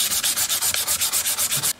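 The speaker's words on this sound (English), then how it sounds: "I've got quite a bit more sanding to do, even after sanding it for a very long time with the 320." Wood on a custom quilted mandolin being sanded by hand with fine 320-grit sandpaper: about twelve steady, rhythmic back-and-forth strokes, close and fairly loud, with no voices.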